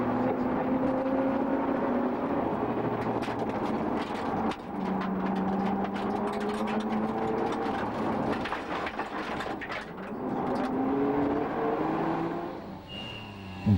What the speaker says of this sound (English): And the Draper's Mini speeds away from Mount Claude towards the end of Sathana and the start of the short Wilmot Targa stage